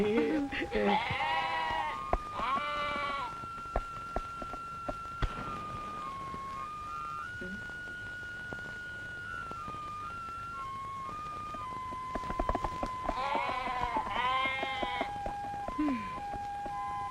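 A goat bleats several times in a classic Malay movie scene, the wavering cries coming in clusters over a steady background hum, with people talking briefly between them.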